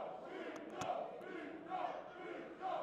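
A crowd at a fight in a gym roars and chants in rolling surges, heard from a distance and fairly faint, with swells of shouting rising and falling about once a second.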